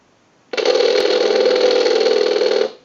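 A steady electronic ringing tone from a TS22 lineman's butt set, sent as a ring cycle from an analyzer, sounds for about two seconds without a break, then cuts off; loud and close, with no voices.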